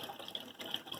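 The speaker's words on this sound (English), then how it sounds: "Give it a good rinse under hot water." Hot water runs steadily from a tap as hands are rinsed beneath it, a continuous close splashing flow with no talk.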